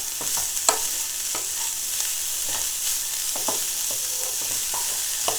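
Radish and carrots sizzle steadily in a pan over low to medium-low heat, a constant close frying hiss punctuated by light clicks of stirring.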